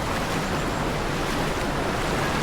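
Steady, loud rush of a fast-flowing river current fills the whole clip, a dense continuous roar without pauses or voices.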